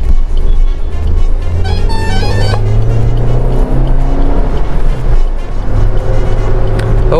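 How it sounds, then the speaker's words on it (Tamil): A Maruti Suzuki XL6 car engine runs and picks up speed, with a steady loud drone from the cabin and a rising whine partway through. "ஸோ இப்போ வண்டி ஸ்டார்ட் பண்ணிட்டோம்."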